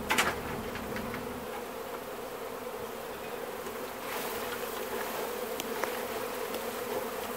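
Honeybees buzz steadily as a hive is removed, a dense, continuous drone of many insects close by, swelling slightly partway through with brief louder passes of individual bees.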